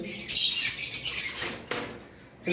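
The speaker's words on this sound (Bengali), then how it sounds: "আমাদের কাছে এখানে কিছু ক্রিমসন বেলি কোনোর রয়েছে" Shrill squawks of crimson-bellied conures ring out nearby, a long harsh call followed by a shorter burst and another starting at the end.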